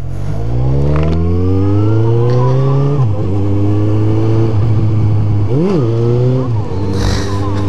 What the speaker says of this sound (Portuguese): E é que a moto nem sobe, ela já fica doida de raiva.